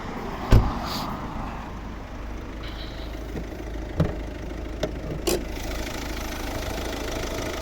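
A 2010 Volvo S40 1.6 diesel engine idles steadily with a low rumble, broken by a few sharp knocks and clicks nearby; no one speaks.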